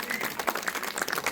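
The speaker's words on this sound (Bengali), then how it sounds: "সবাই একটু জোরে হাততালি দেবেন প্লিজ" Audience applauding after a stage play, a short burst of dense, close clapping from many hands, steady and fairly loud.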